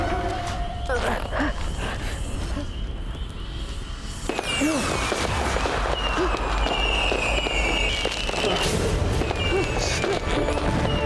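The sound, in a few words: black gunpowder firecrackers exploding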